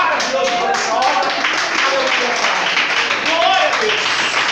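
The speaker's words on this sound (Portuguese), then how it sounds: "Você pode dar um aplauso ao Senhor maravilhoso por essa obra." A church congregation applauding, heard as a steady, dense wash of clapping that holds at an even level throughout, with voices calling out over it.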